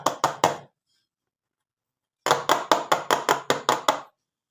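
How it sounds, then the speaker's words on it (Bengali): Small bowls filled with pitha batter shaken and rapped against a hard surface to settle the batter: three quick close knocks, a pause of over a second, then a steady run of about eight sharp, loud taps, with no talking. "বাটিগুলো একটু এভাবে ঝাঁকিয়ে নেব, ভেতরটা ভালো হয়ে সেট হয়ে যাবে।"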